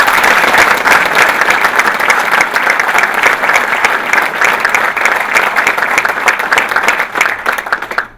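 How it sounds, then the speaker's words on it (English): Steady, loud applause from an audience at a US Army Special Operations Command soldier of the year ceremony, continuous dense clapping filling the room before fading at the end. "So these guys deserve a round of support and applause."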